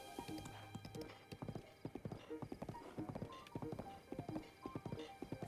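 Hooves clip-clop in a steady, repeated rhythm from a horse in the video game Breath of the Wild, with a whinny mixed in over a busy game soundscape of music and ambient tones.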